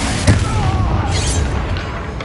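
A Confringo fire spell detonates in Hogwarts Legacy with a sudden, close boom near the start, followed by a rumbling tail under steady game noise.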